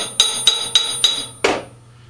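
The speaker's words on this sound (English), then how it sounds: "Get our hammer here, move our material around." Four evenly spaced hammer blows ring out on material in a workshop, followed by a slightly heavier fifth strike, each sharp and metallic with a brief ringing decay, close and loud.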